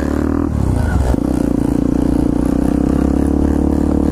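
A pit bike engine revs loud and close as the rider pulls wheelies, a continuous buzzing drone that climbs in pitch early on and then holds steady, with a little rattling clatter and no talking.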